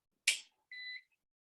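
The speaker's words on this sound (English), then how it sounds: "what you will hear is the beep, which is basically Reskube saying we're actually on battery power now" After a power cut, a Reskube battery backup unit sounds a single short beep, preceded by a quick click, quiet and alone in a silent room.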